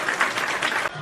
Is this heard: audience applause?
yes